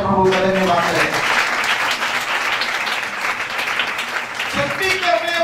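A church congregation claps together in thanks to God, a dense, loud burst of applause that fills the room for several seconds, with a voice heard at the start and end.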